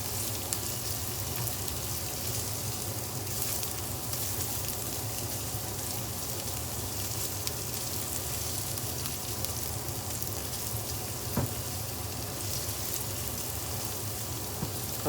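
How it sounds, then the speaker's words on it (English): Fresh, previously frozen lemongrass stalk frying in a pan for a soup stew, a steady close sizzle with fine crackling that holds unbroken throughout, no voices. "so about a minute of this to fry it"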